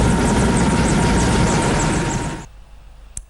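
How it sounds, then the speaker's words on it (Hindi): An Indian Air Force helicopter flies over a hospital, showering flower petals in tribute to doctors, its rotor chop loud and close before fading abruptly, followed by a brief thump. "कहीं हेलीकॉप्टर ने फूलों की बारिश करते हुए डॉक्टर्स का आभार जताया"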